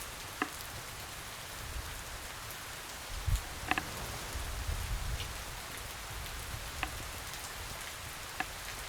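Steady rain falls in the Len's Island video game, a soft, even hiss with a few scattered droplet ticks and low rumbles, quiet and continuous with no voices.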